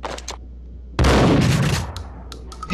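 A sharp loud gunshot from the Max Payne video game cracks out after quiet, its noisy blast lingering for nearly a second, with fainter game sounds before and a small click at the end.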